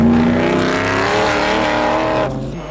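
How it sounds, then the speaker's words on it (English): Historic rally cars at the 1991 Donegal International Rally roar past while overtaking, engines loud and close in a sustained blare that fades sharply near the end. "although they're overtaking 3rd place crew Greg and Malcolm Roberts here"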